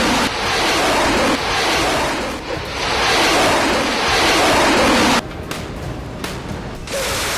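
Black Sea waves surging and breaking with a steady roar, buffeted by strong wind noise on the microphone, easing briefly before dropping to a quieter wash near the end.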